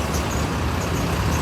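Steady roadway rumble from slow, congested highway traffic near the Damanganga river bridge between Vapi and Daman, heard from a truck cab, with trucks, buses and cars idling and crawling and a faint hiss of air brakes.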